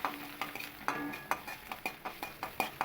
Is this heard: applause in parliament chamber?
no